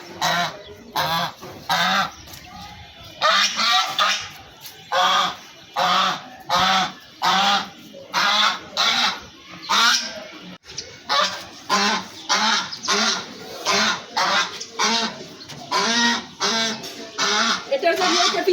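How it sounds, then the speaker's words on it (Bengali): A duck calls loudly and repeatedly, rapid harsh honking quacks in bursts close by, nearly continuous across the stretch. "এটার জন্য এটা পিছু পিছু করে দেখো, কি চিল্লি করে দেখো।"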